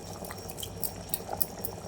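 Water poured into hot mutton paya curry, giving a soft, close bubbling and sizzling with scattered small pops, fairly quiet and without talk.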